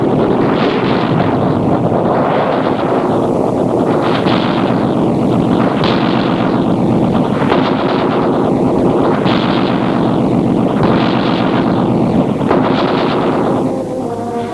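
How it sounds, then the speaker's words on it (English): Sustained heavy machine-gun fire poured at a crippled Nazi submarine forced to the surface in mid-ocean, a loud continuous rattling torrent with rhythmic surging bursts and wind noise, lasting throughout. "a torrent of gunfire is turned on the crippled sub."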